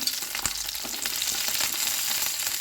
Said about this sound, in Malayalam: എണ്ണ ചൂടായിട്ടുണ്ട് ഇതിലേക്ക് വെണ്ടയ്ക്ക ഇട്ട് കൊടുക്കാം